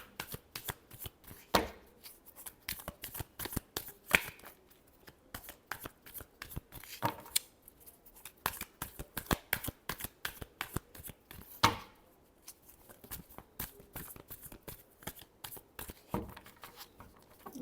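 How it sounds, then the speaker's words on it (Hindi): Tarot cards being shuffled by hand, with a steady run of crisp riffling flicks and sharp slaps at close range, a few louder snaps standing out, no voices. "last shuffle"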